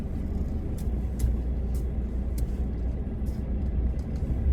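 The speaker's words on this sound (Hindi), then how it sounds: "मैं रिवर्स कर लूँ गाड़ी।" A long car reversing into a parking spot gives a steady low engine rumble close by, with no talk over it.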